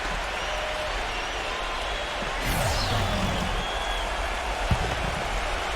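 Arena crowd in the NBA 2K14 basketball video game gives a low steady murmur, swelling briefly into a louder wave of cheering midway, then settling back to a background hum.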